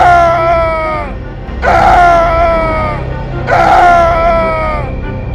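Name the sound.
man screaming in terror, horror story sound effect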